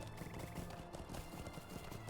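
A horse in The Lord of the Rings Online game, in Ered Luin, clip-clops in a steady rhythm at close range, with a faint whinny mixed into the continuous busy game sound.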